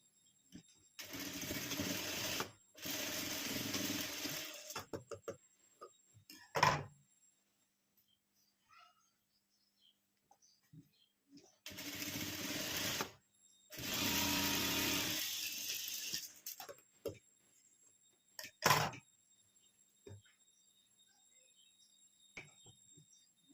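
A sewing machine stitches tucks on a boat-neck blouse in short, loud bursts of rapid whirring, separated by quiet pauses and a few clicks and taps.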